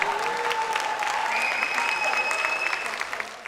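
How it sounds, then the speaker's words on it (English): An audience at a fireside chat with Jeff Bezos claps steadily for several seconds, a dense, even patter of many hands that swells slightly, then tapers near the end. "A big round of applause for Zoya"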